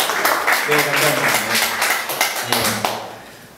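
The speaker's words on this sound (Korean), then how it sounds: "박수 좀 부탁드릴게요" Audience clapping at a food-service business talk event, a brisk burst of many hands that thins out near the end, with voices over it.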